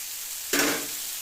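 Potato and bitter gourd slices dropped into hot oil in a pan: a sudden sharp burst of sizzling crackle that fades into a steady hiss within a second, no talking.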